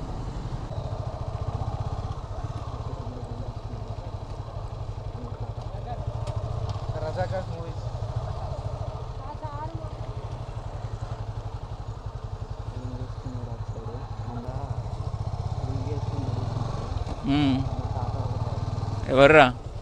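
A motorcycle engine drones steadily throughout a ride near Warangal, Telangana, with a low, constant rumble and wind noise while someone talks over it for most of the stretch.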